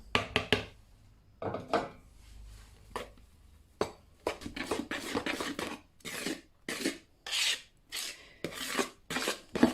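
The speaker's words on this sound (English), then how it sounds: "Now we're going to mix this all together." Strawberry lavender ice cream base with lemon zest being stirred in a bowl, giving repeated scraping, rasping strokes against the bowl in irregular bursts, close and fairly quiet, with no talking.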